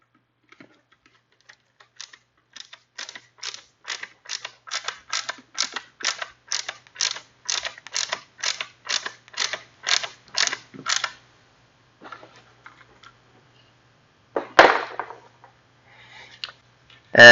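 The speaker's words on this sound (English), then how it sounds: "We're going to go ahead and add this last Torx screw here on the outside." A Torx screw is driven into the cyclone assembly of a Dyson DC44 Animal vacuum, making a steady run of about twenty evenly spaced ratcheting clicks. A few scattered plastic knocks follow, all close and clear without speech.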